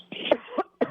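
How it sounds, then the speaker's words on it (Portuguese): An adult gives three short, close coughs in quick succession, each a rough, breathy burst. "desculpa, estou com um pouco de tosse"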